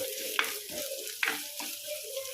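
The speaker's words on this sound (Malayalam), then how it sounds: "ഷവള അവിടെ കിടന്ന് മൊരിയട്ടെ" Ribbonfish sizzles steadily in a pan, a soft crackling fry with a few sharper pops and light scraping, no voices.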